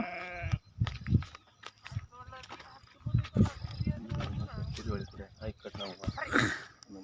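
A flock of sheep in a pen on a farm where around 600 sheep are being given injections bleats repeatedly, several animals calling close by while people talk over and between the cries.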